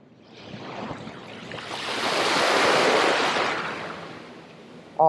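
An incoming-tide ocean wave rolls in, its wash building to a loud roar and then receding, with wind noise around it.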